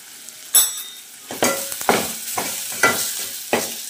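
Homemade Malvani spicy masala sautéing in a pan over low gas, with soft sizzling broken by a few louder stirring scrapes and clatters spaced through a few seconds, close up and with no voices.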